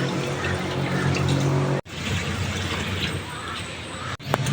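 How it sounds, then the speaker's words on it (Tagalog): Water pours steadily into a cooking pot for boiling at a countryside outdoor kitchen, a close, continuous rushing splash with two brief breaks. "Nalalagyan na daw po niya ng tubig."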